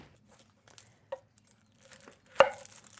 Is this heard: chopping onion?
yes